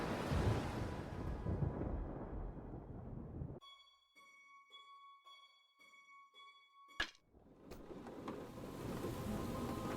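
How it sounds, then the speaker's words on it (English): Heavy rain and rumbling thunder from a raging storm, loud at first, then cut away to a quiet tonal interlude before a sharp crack and the downpour roaring back in full force. "Outside, the storm raged."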